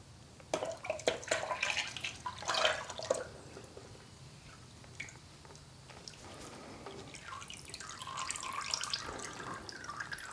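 Drained transmission fluid from a 2006 Toyota Tundra V6 4.0L is poured into a container, a faint, uneven trickle and splash with a few drips, quiet and close.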